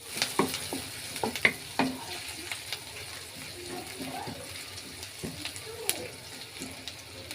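Onions sizzle in hot oil in a home kitchen pan, a steady frying hiss broken by sharp clicks and scrapes as they are stirred.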